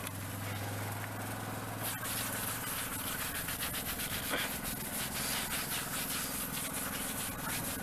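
A brush scrubs a car tire coated in tire cleaner, producing a steady, close, gritty rubbing that continues without a break over a faint background hum.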